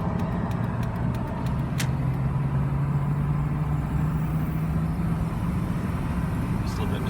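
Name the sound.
2002 GMC Sierra truck pulling onto highway in first gear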